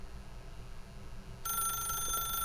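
A telephone in The Stanley Parable starts ringing partway through, a bright electronic bell trill that continues steadily over a quiet low ambient hum.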